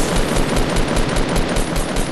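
Rapid automatic gunfire in a video game battle, loud and continuous bursts with no pauses, up close and filling the whole moment without talk.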